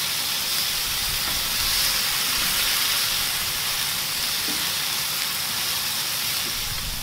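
Shrimp cook on an Artflame grill set on a Weber kettle, producing an even, unbroken hiss of sizzling that stays level throughout, with no voices.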